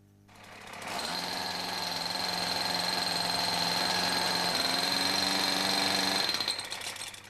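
A petrol-driven Atlas Copco Cobra breaker engine runs at a steady, loud, high buzzing speed. It starts up after a brief lull, holds constant with a slight pitch shift partway through, then cuts off near the end.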